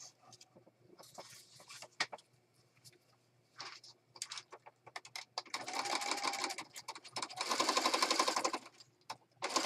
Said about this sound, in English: Let's go over to the sewing machine.